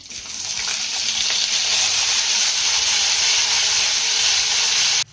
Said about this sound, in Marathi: जिरे आपलं चांगलं फुललं की यामध्ये आपल्याला बटाट्याच्या फोडी घालायच्या